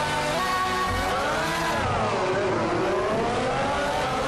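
A Ferrari SF15-T Formula 1 engine at Monza in Assetto Corsa screams loud and close, its pitch climbing, dropping through gear changes and swelling again in a continuous high-revving wail.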